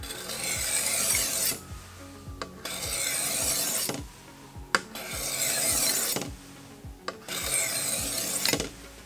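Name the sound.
knife blade pushed across a sharpening stone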